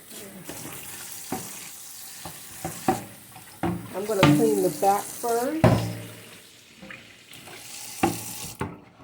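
Cold tap water runs while a wooden mid-century tray is rinsed and cleaned, splashing and trickling close by under a person's talk, with clatters of handling throughout.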